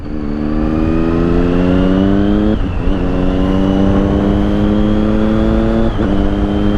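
A motorcycle on a scenic country road, its engine droning loudly and close as it climbs through the revs, with two crisp quick-shifter upshifts that each briefly drop the pitch before it rises again.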